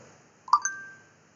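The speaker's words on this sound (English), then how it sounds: "phone's going off" A mobile phone chirps a quick two-note electronic alert that trails into a fading tone, brief and fairly faint in a quiet room during a maths lesson.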